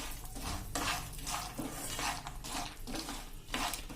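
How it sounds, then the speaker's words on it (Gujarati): Roasted peanuts stirred in a pan over a slow flame for savory masala peanuts, with a repeated scraping and rattling of nuts against metal in rhythmic bursts, close and steady, no talking. "1 થી 2 મિનિટ જ આપણે સ્લો ફ્લેમ ઉપર જ આ રીતે મિક્સ કરી લેશું."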